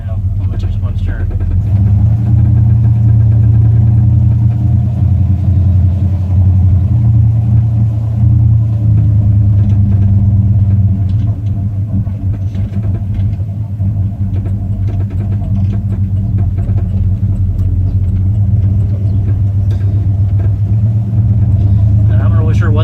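A running 1968 Cadillac hearse engine gives a steady, loud, close low rumble for the whole stretch, with faint light ticking scattered over the drone.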